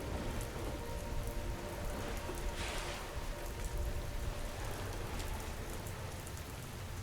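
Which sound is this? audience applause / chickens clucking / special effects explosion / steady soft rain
steady soft rain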